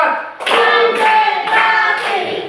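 Middle school class clapping together in a rhythmic pattern, four loud, evenly spaced group claps with a sustained voiced tone running through them.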